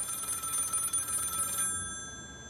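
A telephone bell rings with a steady bright tone for about a second and a half, then cuts off abruptly, leaving a faint hum; no one speaks.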